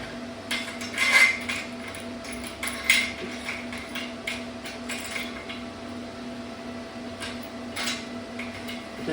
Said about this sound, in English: we're going to put our screw in like that.